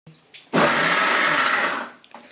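A kitchen mixer grinder whirs loudly as it grinds roasted sambar masala ingredients for an avarekalu and urad dal sambar, a steady roar lasting over a second before spinning down, with brief talk before it.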